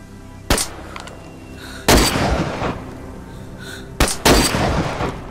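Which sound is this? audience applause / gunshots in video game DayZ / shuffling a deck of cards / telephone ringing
gunshots in video game DayZ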